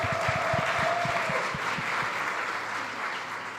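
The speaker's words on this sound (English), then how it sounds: "Give her a round of applause, please." Audience at a food summit conference clapping in a dense burst of applause that starts full and slowly thins over a few seconds, with a little crowd noise underneath.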